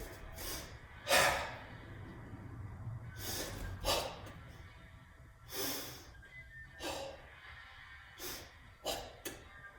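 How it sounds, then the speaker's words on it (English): Forceful audible breathing accompanies a Goju Ryu Sanseiryu karate kata, with sharp, loud exhales and snorts at uneven intervals and quieter inhales between them, close and without talk. "I do a little bit of audible breathing, just so you can count in and then out."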